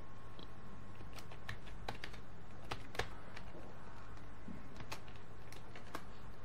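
Someone types a password on a computer keyboard, with scattered close key clicks spaced unevenly over a quiet background hum and no talking.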